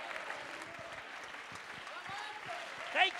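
A church congregation claps together in a dense, continuous patter during worship, with a voice speaking over the clapping throughout.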